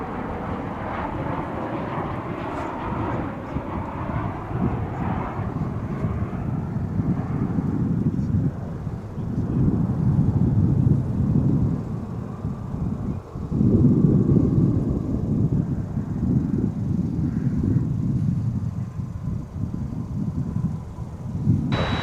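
An American Airlines Boeing 737-800 arriving at DFW from Los Cabos gives a steady low engine roar that swells and holds throughout, with a voice talking over it at moments.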